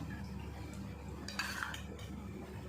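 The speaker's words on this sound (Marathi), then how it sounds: "आता मी चार चमचे दही टाकलं आहे ते पहिल्यांदा व्यवस्थित मिक्स करून घेते" A spoon mixes curd into sabudana in a bowl for a tangy fasting dish, giving a soft, steady stirring with a short cluster of metallic clinks against the bowl midway.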